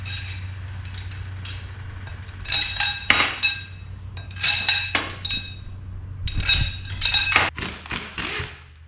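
Metal bolts with sealed washers clink and tap as they are dropped into place in a Caterpillar 735 transmission, producing scattered bright metallic chinks in small clusters, close up over a low steady hum.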